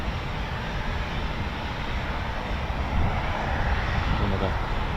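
A Eurofighter Typhoon FGR4 with EJ200 engines flies a practice display at an RAF quick reaction alert station. Its loud, steady broadband roar fills the air and swells slightly toward the end.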